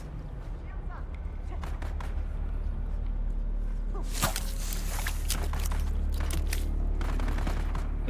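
Gunfire in the video game Dune: bursts of shots crackle over a constant low rumble of game ambience, with a louder cluster midway and scattered impacts throughout.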